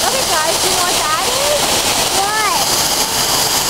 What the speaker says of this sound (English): That's called a waterfall.